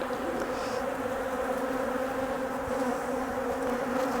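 Honeybees from a recently split colony hum in a steady, dense drone during a hive inspection, soft and continuous without talk.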